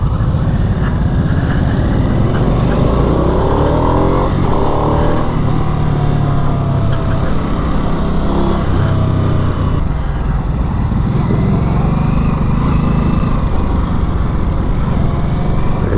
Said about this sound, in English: So when you're actually like trying to rev match, you have to like give it a lot of throttle just to get it to rev match.